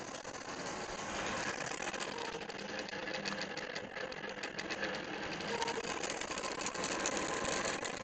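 A longarm quilting machine runs steadily at a close, even level with a dense mechanical hum and fine rapid stitching texture, no talk.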